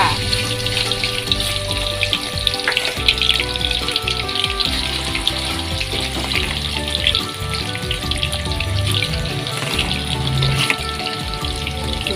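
Pork frying in boiling vegetable oil for Thai garlic fried pork, a steady loud dense sizzle and bubbling crackle running continuously and close throughout.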